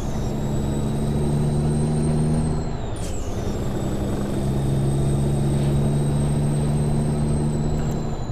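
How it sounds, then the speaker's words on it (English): Peterbilt 389 truck in Euro Truck Simulator 2 pulling away in a high gear, a steady loud low diesel drone with whining tones that dip briefly near the middle and then climb again, with no talk. "This truck starting off in 13th gear like a champ."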